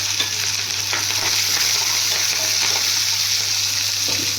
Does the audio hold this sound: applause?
no